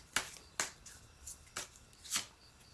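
Tarot cards are shuffled for a reading in a few separate sharp riffles and slaps, spaced about half a second apart, close and soft against a quiet room.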